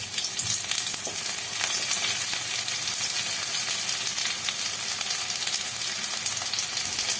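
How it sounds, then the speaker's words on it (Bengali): Onion and dried red chillies fry in hot oil, making a dense, steady, close sizzle with light stirring throughout. "পেঁয়াজটাকে খুব বেশি ভাজবো না হালকা মতো একটু ভেজে নেব পেঁয়াজটা"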